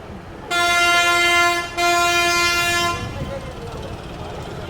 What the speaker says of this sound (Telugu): ఇది చెన్నై సెంట్రల్ రైల్వే స్టేషన్.